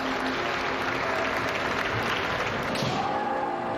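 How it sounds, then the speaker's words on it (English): Steady hand clapping fills the space at a kendo match, a dense continuous patter of applause holding at an even level throughout. "Clapping his hands, his opponent sportingly acknowledges Eiga's technique."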